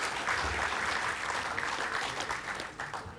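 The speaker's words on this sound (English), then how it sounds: "Another big round of applause for the Public Service Commission." A round of audience applause at the 2013 FNU Fiji Business Excellence Awards Night, steady crowd clapping that gradually thins and fades toward the end.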